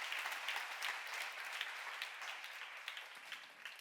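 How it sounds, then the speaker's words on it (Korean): An audience at a church lecture claps hard on request, a dense, continuous burst of applause from many people that stays steady with no speech over it. "여러분, 박수 세게 쳐봐요, 진짜로."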